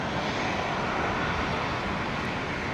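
A continuous steady roar of aircraft engines at Brisbane airport, heard from a distance without a break and with no talking.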